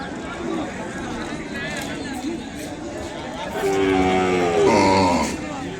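Cattle low at the Kodad market, where Ongole bulls are traded. A drawn-out moo rises near the end over steady crowd chatter and close talk.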